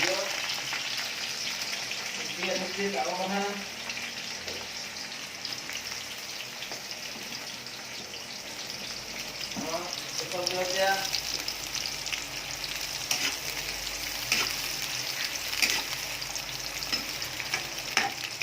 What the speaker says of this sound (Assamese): পিঁয়াজ দি দিলোঁ